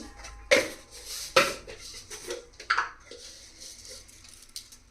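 A tablespoon of mustard seeds hits a hot kadai that already holds coriander seeds, while a fish-free fish curry is being made. A few sharp, close rattling clatters stand out, followed by fainter scattered ticks and light crackle.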